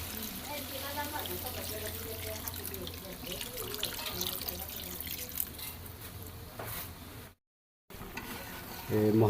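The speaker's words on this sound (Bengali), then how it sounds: "তরকারি জল দিয়ে দিচ্ছি।" Water is poured into a simmering curry of small baila fish with tomato and cauliflower, making a soft, close trickling splash for several seconds, with a voice faintly in the background.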